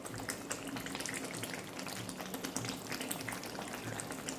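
Kaddu gosht, a pumpkin and beef curry with fresh coriander stirred in, simmers in a pot with a steady, even sizzle and bubbling hiss that continues throughout, with no talking.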